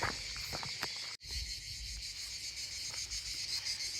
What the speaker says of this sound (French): Chant des cigales.